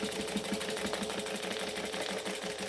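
A sewing machine stitches straight across a bag, its needle running in a rapid, even mechanical patter that stays close and continuous.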